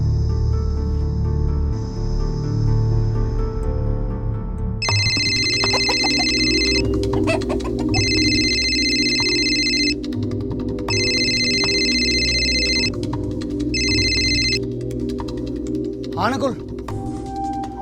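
A phone rings in repeated electronic bursts, four evenly spaced rings over a background of room noise and scattered clicks, following a short stretch of quiet hum at the start.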